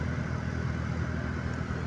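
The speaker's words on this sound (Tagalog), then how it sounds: "Sumisinok-sinok yung makina eh." A Toyota Revo engine idles rough and misfires, a close, steady low rumble with uneven pulsing throughout and no talk.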